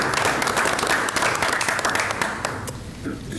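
A school board meeting audience breaks into brisk, fairly close applause, dense clapping that holds steady and then thins out toward the end.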